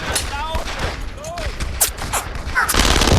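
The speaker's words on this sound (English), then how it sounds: "I'm gonna get on this machine gun right here." World War II video game battle with bursts of machine gun fire and scattered gunshots over loud, busy combat noise, with voices talking over it.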